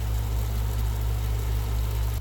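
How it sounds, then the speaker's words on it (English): An air conditioner runs inside a van, giving a steady, loud, low droning hum with a constant broadband hiss that holds unchanged throughout and has no voices over it. "The noise you hear in the background, that's just the air conditioner going."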